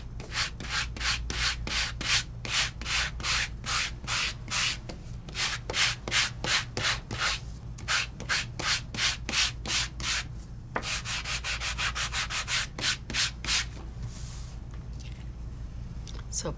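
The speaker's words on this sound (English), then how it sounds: "I will do half of it sanded and half of it not." Hand sanding a stenciled craft piece, close rhythmic back-and-forth scrubbing strokes, steady and then quicker toward the end, with faint low voice in the background.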